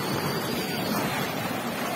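Floodwater after heavy rain swirls in a whirlpool, a dense, steady rushing roar close by with wind-like noise and no speech.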